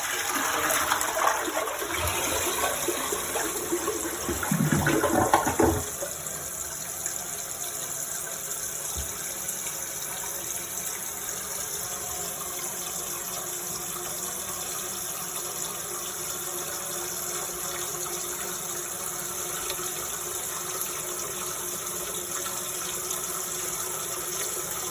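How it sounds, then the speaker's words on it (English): A household toilet fitted with a Korky Complete Toilet Fix Kit flushes in a short rushing gush for a few seconds, then settles into a long, steady hiss of the tank refilling. "let me see when I flush again what happens"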